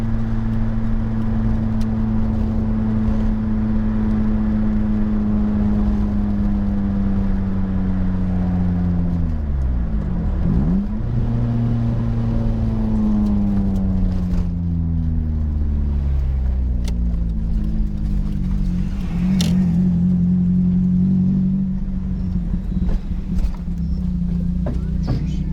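Car cruising along a road with potholes, steady engine drone heard from outside the vehicle, pitch dipping and rising as it slows and speeds up, continuous and fairly loud.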